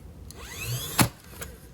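A repaired staple gun test-fired at close range, one sharp loud snap near the middle with a whirring hum before it and a fainter click after.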